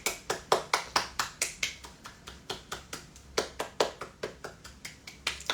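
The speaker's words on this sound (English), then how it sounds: "I'm gonna clap lightly because there's people around" One person claps lightly at a steady brisk pace, about four soft, close claps per second, during a healing exercise session, with no talking over it.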